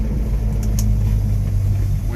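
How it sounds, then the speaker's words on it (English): A Honda Acty mini truck's engine is floored in fourth gear, giving a steady, loud low drone with a constant hum throughout and no talk. "If you floor it here, this is floored in fourth"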